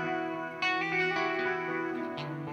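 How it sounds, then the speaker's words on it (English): A sustained guitar chord rings out through a Boss DM-101 delay pedal, washed in lush, spacious reverb, the notes blurring into a shimmering tail with no talking. "Where reflect is more of a true kind of just reverb-y sound."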